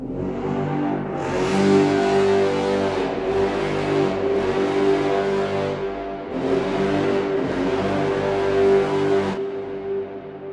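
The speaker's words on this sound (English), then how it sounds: "So these are all resamples done from brass and in the garbage trucks and with some extra sound design." Heavy sound-design texture built from resampled garbage truck recordings and brass, a loud droning tonal roar that swells and cuts off in long sections, with no talking.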